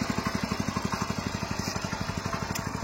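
A 7 hp power weeder engine runs close by with a steady, rapid chugging beat, loud and even, as the machine is put into reverse gear.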